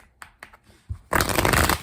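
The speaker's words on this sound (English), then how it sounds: "Let's do 3 major shuffles right now." Tarot cards shuffled by hand in a quick riffle, starting with a few soft taps and flicks, then a loud, dense burst of fluttering card noise close up, no voices.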